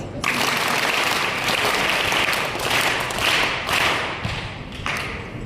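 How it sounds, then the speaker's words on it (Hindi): Loud applause from schoolchildren at a school in Nashik, a dense continuous wash of many hands clapping together that swells in waves and holds for several seconds without a break. "तो अपने लिए जोरदार तालियां।"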